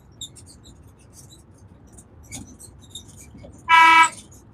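A loud, short horn blast rises out of quiet outdoor ambience, holding steady for about half a second before cutting off.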